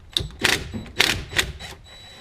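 A wrench loosens the clamp nuts on a Suburban/Tahoe window regulator, producing four or five sharp metallic clicking bursts close by, then falling quiet.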